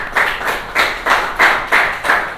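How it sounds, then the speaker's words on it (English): A school class claps for a hockey player-of-the-match award winner, about six loud, evenly spaced bursts of rhythmic group clapping, close by and without talk. "Let's clap for that."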